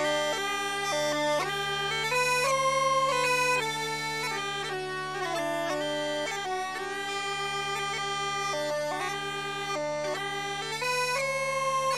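Uilleann pipes play a lively ornamented melody over a steady, low droning hum that holds underneath throughout, clear and close.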